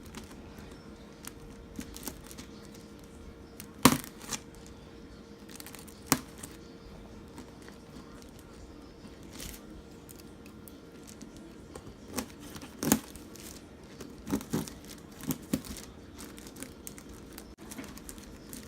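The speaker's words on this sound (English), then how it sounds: "I'm gonna be cutting, okay, from right here to right here." Scissors cut a hole in a paper envelope box for a bridal shower, giving quiet rustles and crinkles broken by a few sharp snips and paper taps, close by with pauses between them.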